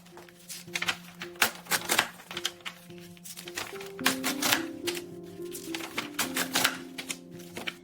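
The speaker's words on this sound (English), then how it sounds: "We're gonna cut them 1 inch each." Scissors snip through 8.5 by 8.5 inch paper sheets, cutting them into 1 inch strips in a steady run of crisp, close cuts with short pauses between them and soft background music underneath.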